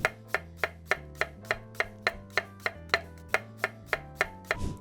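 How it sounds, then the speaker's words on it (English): A knife slices peeled onions on a cutting board in a steady, even rhythm of about fifteen close, sharp strokes, with a low musical backing underneath and no talk. "We've got our onions peeled, so let's go ahead and get these sliced up for our caramelized onions."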